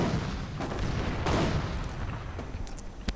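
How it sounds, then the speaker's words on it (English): Mines detonate in a WWII Normandy strategy video game, heard as a few muffled booms and thuds within a rumbling battle din, with brief sharper cracks. "Mines go off again, killing a few Luftwaffe troops."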